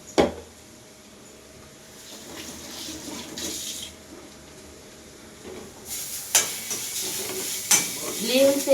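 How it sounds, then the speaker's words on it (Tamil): Ginger garlic paste sautéing and being stirred in a pan while cooking, soft sizzling with scraping spoon strokes and occasional clinks that grow busier near the end. "இஞ்சி பூண்டு பேஸ்ட்டு பச்சை வாசம் போகிற வரைக்கும் நல்லா வதக்கணும்."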